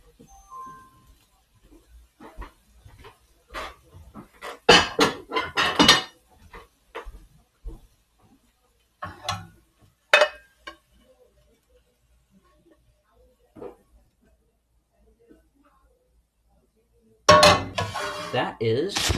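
Plates and cutlery clink and clatter in a kitchen while scrambled eggs are served, coming in sharp scattered bursts separated by quiet gaps, with a few short spoken words between them.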